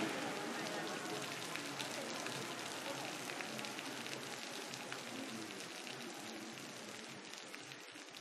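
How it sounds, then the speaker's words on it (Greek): Heavy downpour during an outdoor church procession, a dense, steady hiss of rain pattering on surfaces that fills the whole stretch at moderate level. "Και ενώ γινόταν κατακλυσμός"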